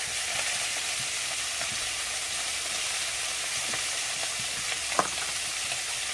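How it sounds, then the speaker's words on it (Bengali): Shrimp frying with chili, salt and turmeric in a pan gives a steady hissing sizzle, with light occasional stirring taps and one sharper clink near the end. "চিংড়ি মাছটা ভেজে নেব।"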